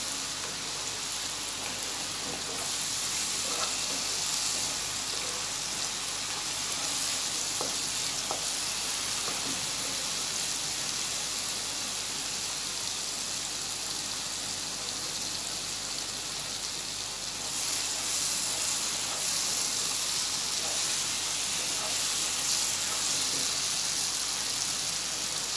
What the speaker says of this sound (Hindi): इसको हम भूनेंगे, अभी अच्छी तरह भूनेंगे, जब तेल अलग हो जाएगा, मसाला अलग हो जाएगा तो ये अच्छी तरह भून जाएगा